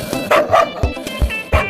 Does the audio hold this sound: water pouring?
no